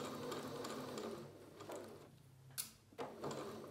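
A sewing machine stitches a half-centimetre seam around a fabric bucket, giving a soft, even whirring run that pauses, followed by a couple of sharp clicks and a brief restart, quiet and close.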